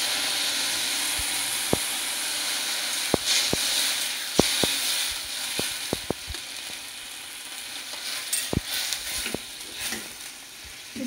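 Water poured onto potatoes and pointed gourd frying in a pan sets off a steady, close sizzle and hiss, dotted with scattered sharp pops and crackles throughout, with no voices.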